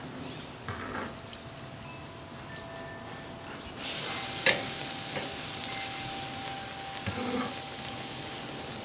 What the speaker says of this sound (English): going to put our corned beef on the high heat side for a couple minutes on each side, basically for a sear